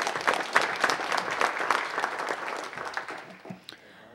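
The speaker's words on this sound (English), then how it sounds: "Everyone, please give him a round of applause as well." Audience at a city council meeting clapping for several seconds, a dense burst of applause that gradually thins and fades, with a faint voice near the end.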